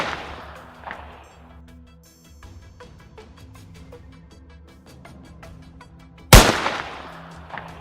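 A single sharp, loud gunshot from a hunter firing at a wild boar in an open field cracks out near the end, after quieter ambient rustling and faint clicks.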